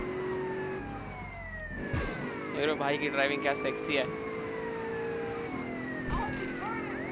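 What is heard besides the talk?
police car siren in GTA video game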